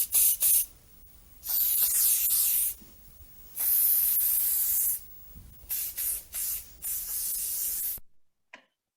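An aerosol spray can hisses in several bursts, some long and steady, others short and clipped, loud and close with quiet pauses between them and no voices.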